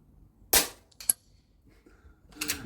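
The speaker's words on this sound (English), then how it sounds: "Real world shooting." An AGT Vixen air rifle fired outdoors at targets, two sharp close cracks about half a second apart, then a softer burst of noise near the end.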